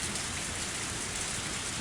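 Heavy rain in the Higurashi When They Cry visual novel, a dense, steady hiss of downpour with no break, loud and even throughout and no talking.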